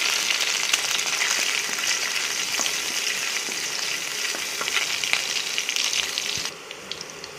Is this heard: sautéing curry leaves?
yes